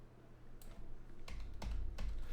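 Fingers type on a computer keyboard during a web development coding session, giving a handful of soft, close, irregular key clicks over a quiet room hum, with no voices.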